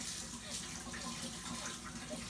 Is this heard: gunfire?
no